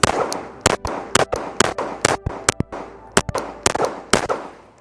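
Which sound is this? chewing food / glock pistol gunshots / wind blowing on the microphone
glock pistol gunshots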